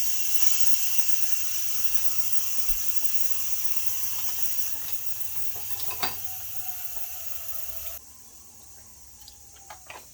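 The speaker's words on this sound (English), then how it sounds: "So we will release the steam." Steam releasing from a pressure cooker while baby back ribs cook: a steady, loud hiss that continues for several seconds, then drops to a quieter level near the end, with a few small clicks and taps and no voices.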